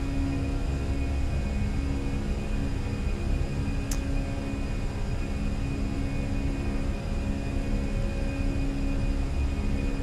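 The Airbus A320 engines in thrust climb in Microsoft Flight Simulator give off a steady, loud, broadband roar with a constant tonal whine, unbroken for the whole stretch and with no talking.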